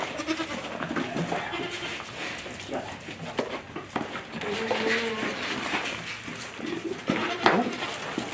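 Goats bleating on a homestead, several nearby animals calling in short wavering cries scattered across the scene, mixed with rustling and handling noise and occasional talk from people close by.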